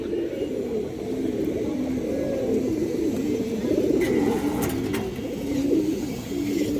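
Chuithal Musaldam pigeons, a pair, cooing steadily in low repeated murmuring phrases, fairly close and continuous, with a faint background hum and occasional higher chirps.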